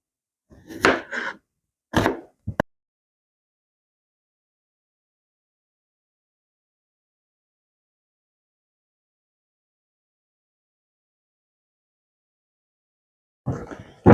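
A knife chops onion and garlic on a cutting board in a few quick bursts of sharp strokes near the start, then a long silence before more chopping at the end.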